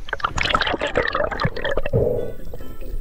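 Divers go into clear seawater with close splashing, gurgling and dripping bursts that come and go, loud and busy.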